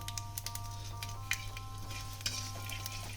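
Nigella seeds and a dried red chili tempering in hot oil in a kadai, giving a faint, steady sizzle with scattered small crackles and pops over a low background hum.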